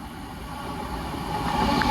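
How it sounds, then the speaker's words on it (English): An Avanti West Coast passenger train running on diversion from London Euston to Manchester Piccadilly passes with a steady rumble and hum that swells slightly toward the end. "And here's a pass on Avanti West Coast on divert from London Euston to Manchester Piccadilly."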